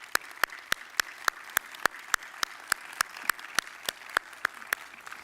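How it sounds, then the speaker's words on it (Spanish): Audience applause closing a conference presentation: a steady wash of clapping with one sharp, evenly paced clap cutting through about three times a second, at moderate distance with no voices. "Un aplauso."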